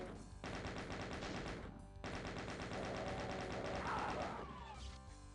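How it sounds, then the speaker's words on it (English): Rapid, sustained bursts of automatic gunfire from a chaingunner enemy in Doom II, loud and rattling, with a brief pause and then another long burst before the shots trail off. "Is it that chain gunner up there again?"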